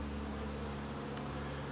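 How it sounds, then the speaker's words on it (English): Bees swarming around a palm frond that has been pulled down from above a hive, a dense, continuous buzzing drone that stays steady and close, with no voices. "Some of the bees are still swarming around that."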